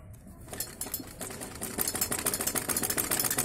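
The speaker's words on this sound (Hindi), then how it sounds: "सिलाई लगाएंगे इसके ऊपर।" A sewing machine stitches around the neckline of a blouse, first a few separate clicks, then a rapid, even chatter of needle strokes that grows louder and faster toward the end, heard close up with no talking.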